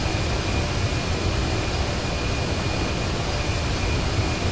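Airplane engine in the video game Grand Theft Auto 5 at Los Santos International, a steady broadband roar with a faint high whine, constant and unbroken, no voices.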